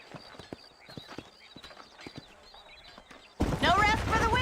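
Horses clip-clop at a walk in Red Dead Redemption, with irregular hoof knocks on hard ground and faint jingling, followed by a loud burst of talk.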